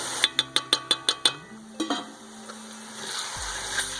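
Ginger garlic paste goes into a hot pan for frying, with a quick run of sharp clicking taps at first, then a soft sizzle and faint scraping that grows steadier, quiet and close, with no voices.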